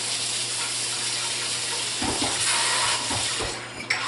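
Tap water running into a kitchen sink to rinse a container used for lye soap making, a steady hiss of flow with splashing and clunks as the container shifts under the stream.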